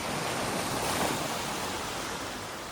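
Broad wash of sea surf rolling in, a steady roaring hiss with soft wind, heard alone without voices.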